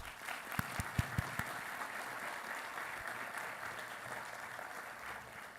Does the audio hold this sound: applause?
yes